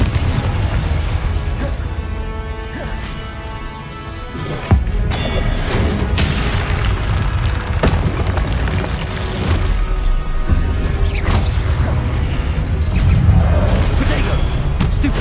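Confringo blasting spells go off in the Hogwarts Legacy video game, as a string of sharp booms and bursts pop out over busy combat noise, with a voice speaking at times.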